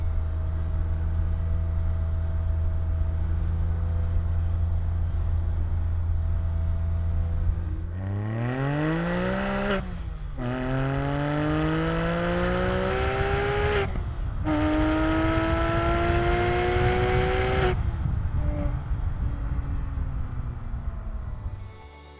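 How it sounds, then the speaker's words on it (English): A Porsche 997.1 GT3 RS engine idles steadily, then revs sharply in several rising bursts, loud and close, with no talking. "Give a listen to the car as it came in."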